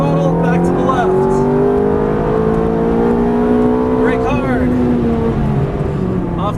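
Ferrari F430 engine pulling at full throttle on a race track, loud rising rev sweeps with a gear change midway, then climbing again, heard from inside the car.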